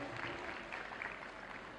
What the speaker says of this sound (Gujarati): એમને પણ એકવાર જોરદાર તાળીઓથી વધાવી લ્યો